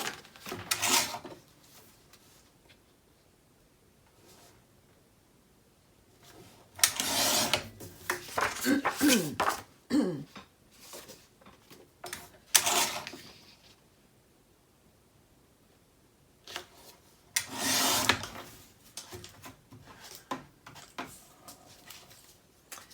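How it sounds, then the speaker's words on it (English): Patterned scrapbook paper being trimmed in several separate bursts of crisp cutting and rustling, close and fairly quiet, with long pauses of near silence between them. "both of these need to be trimmed down quickly"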